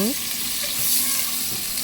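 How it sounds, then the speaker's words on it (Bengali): Onions sizzle steadily in a hot pot, a close, loud, continuous frying hiss with no talking. "পাতিলে দিয়ে দিলাম পেঁয়াজ, একটু ভেজে নিব।"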